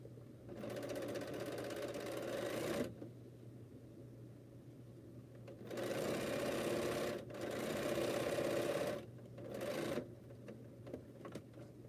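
A Bernina sewing machine stitches fabric in quick bursts, a steady mechanical whir running a few seconds at a time, with short pauses between runs, close and fairly quiet.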